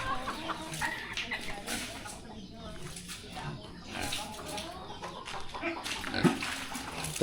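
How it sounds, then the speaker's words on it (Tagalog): Pigs and chickens on a farm, with grunting and clucking spread through a busy, fairly steady farmyard din, a sharper call near the end, and a voice speaking at moments. "Tingnan natin yung mga baboy natin dito."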